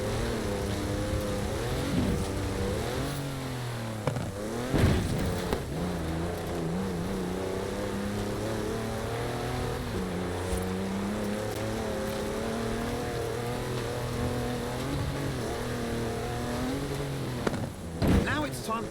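A 340-horsepower car engine in Forza Horizon 4 drones steadily and loudly throughout, its pitch rising and falling as it accelerates and shifts, while someone talks over it.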